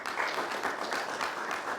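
Audience applause at a live comedy show, a short, moderately loud patter of clapping from a crowd, steady across the moment.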